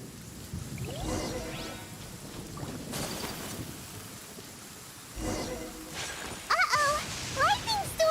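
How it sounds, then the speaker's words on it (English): In Genshin Impact, steady rain falls during a thunderstorm with lightning, broken by several sharp cracks and rolling thunder bursts, fairly quiet overall, with voices and game sounds joining toward the end. "Lightning storm!"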